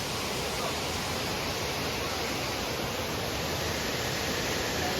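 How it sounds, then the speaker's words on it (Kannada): Iruppu Falls roars as a dense, steady broadband rush of falling water, loud and unbroken from start to finish, with no clear voices above it. "This is Irpu falls."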